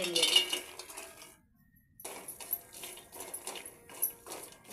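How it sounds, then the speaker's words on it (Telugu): Metal pot clatters and clinks as it is set on a stove, a few close knocks and scrapes after a brief pause. "పొయ్యి మీద గిన్నె పెట్టుకోవాలి"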